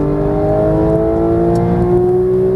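Porsche GT3 race car on a Vegas track, its engine pulling hard under acceleration with a steady rising pitch, loud and close from the cabin.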